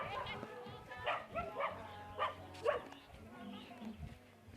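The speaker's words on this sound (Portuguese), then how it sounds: "Qual esse cão ali, ó." A dog on a rural dirt road barks in a series of about five short, sharp, fairly close barks mixed with whimpering yips, while people talk nearby.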